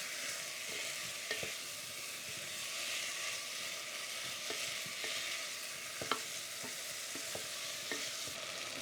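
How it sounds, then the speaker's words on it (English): Korma curry paste is stirred into vegetables frying in a pot, including uchiki kuri squash, giving a soft continuous sizzle broken by light scraping and tapping of the spoon, with no talking. "Get the paste mixed in and give it 3 or 4 minutes just for the flavour to infuse into the"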